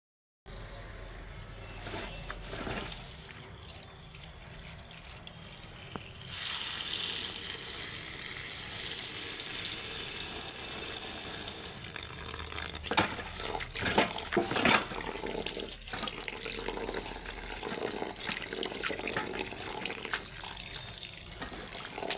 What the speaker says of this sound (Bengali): এখন আমি ভালো করে একটু ধুয়ে নেব তিনবার চারবার করে ধুয়ে নেব